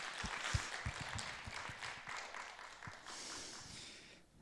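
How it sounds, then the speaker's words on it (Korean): Church congregation applauding a choir at a Wednesday service, a soft patter of clapping with a few distinct louder claps, fading toward the end. "다시 한번 뜨거운 박수로 우리 응원해 주시면 감사하겠습니다"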